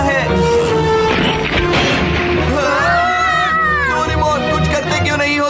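Cats meow and yowl in a Hindi-dubbed Doraemon cartoon episode, with pitched, wavering cries rising over cartoon voices and background music.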